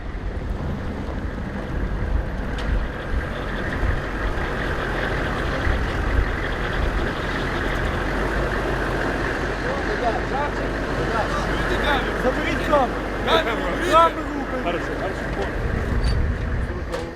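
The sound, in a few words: Humvee engines during night transfer of wounded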